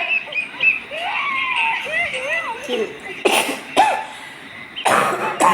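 A few sharp coughs arrive near the end, close and loud, after a stretch of high chirping and squeaky vocal sounds.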